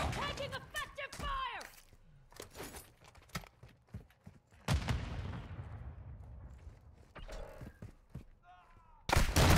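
Quick-firing sniper rifle shots in a video game, a handful of sharp cracks spread irregularly with quieter gaps between, one loud shot near the end, with a voice talking briefly.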